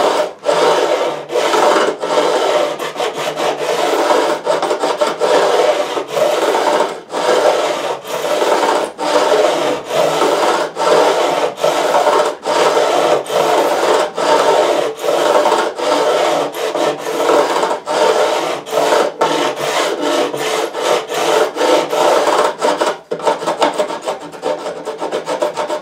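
Guitar frets are filed and bevelled by hand, a steady loud rasping scrape that repeats in quick, even strokes for the whole stretch without pause.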